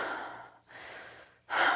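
A voice imitates panting, anxious hyperventilation: three bursts of heavy, rapid breathing close up, the last the loudest, with brief gaps between and no words.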